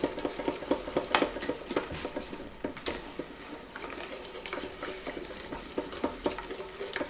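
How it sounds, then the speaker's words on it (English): A metal whisk stirs melting chocolate in a bowl, a steady run of light clinks and scrapes against the sides with brief louder knocks, close by and with no talking. "I always use a whisk when I do my chocolate."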